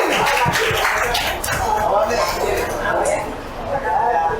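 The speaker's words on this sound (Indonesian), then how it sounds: "Dan mari kita akhiri tepuk tangan bersama" Crowd clapping together to close a novel discussion held at a coffee shop, a short burst of many hands mixed with cheerful chatter and voices, fairly loud and close throughout.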